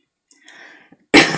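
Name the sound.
cough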